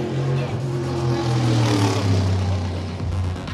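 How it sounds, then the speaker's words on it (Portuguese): A Stock Car Brasil race car roars past at the Goiânia circuit. The loud engine note sweeps downward as it goes by, close and sustained for a few seconds. "Olha o carro passando."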